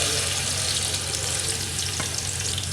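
Onions frying in hot ghee in a pot, a loud, dense, continuous sizzle close by with faint stirring scrapes and no talk.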